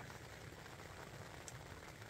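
Rain falls steadily outside a camp on a long-distance hiking trail, a faint, even patter with no voices.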